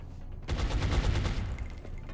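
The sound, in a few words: gunfire in the video game Long War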